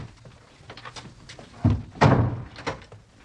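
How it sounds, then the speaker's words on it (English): A door is slammed shut indoors: a couple of heavy wooden thumps and a final bang close by, with faint room rustle before and no talking. "And shut the door."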